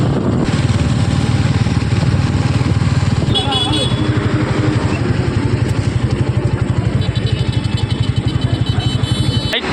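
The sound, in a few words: motorcycle riding over the Kolaghat bridge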